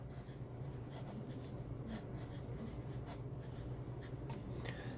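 Extra fine steel nib of a Gama Jumbo acrylic fountain pen writing on paper, a soft continuous scratch with faint stroke accents over a steady low hum, close and quiet, no talking.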